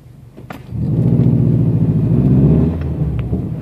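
A 2007 Subaru STI with a manual gearbox revs up as it pulls away in gear: a close, loud engine rumble swells in under a second, holds steady for about two seconds, then eases off.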